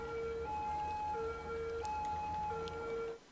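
A fire truck siren in a city-building video game wails in a steady two-tone alternation, moderately loud and repeating evenly before cutting off abruptly, with no voices over it.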